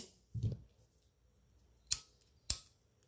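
Scissors cut leftover ribbon for a bow, giving two sharp, quiet snips close to the microphone after a soft rustle, with silence between them.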